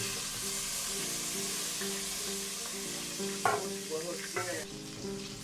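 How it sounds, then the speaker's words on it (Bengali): Onion and chili fry in oil for a hilsa fish dish, giving a soft, continuous sizzle with a few brief stirring clatters over a steady tonal hum. No one speaks. "দিয়ে দিলাম হচ্ছে পেঁয়াজ আর মরিচ। এটাকে মোটামুটি একটু ভাজার পরে আমি মশলা দিব"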